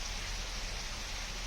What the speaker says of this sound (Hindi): कोंडागांव में झमाझम बारिश हुई